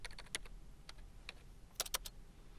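Keystrokes on a computer keyboard tapped out in irregular quick clusters, close and crisp, with a few louder clacks and no voices.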